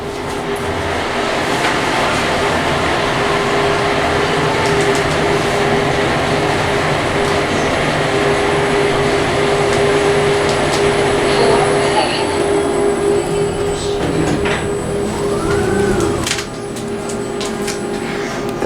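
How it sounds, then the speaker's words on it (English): A Schindler 5500 MRL machine-room-less traction elevator descending at Sable at Navy Pier in Chicago, a loud steady rumbling hum with a constant drone throughout, a brief rising chime near the end, then a quieter settle as talk occurs nearby. "Elevators going down."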